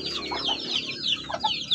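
A Shamo Aseel hen clucks in short, close repeated calls with high chirps of young chicks around her, steady and fairly loud with no talking.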